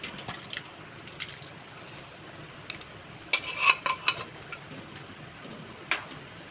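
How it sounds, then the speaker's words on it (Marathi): Spoon scraping and clinking against a metal kadhai as mashed pav bhaji vegetables are stirred, a few sharp scrapes and taps standing out from a faint, quiet background, with no talking. "आता ही जी भाजी मॅश केली पावभाजीची तो इतकी आता मी कढईमध्ये घालून घेते"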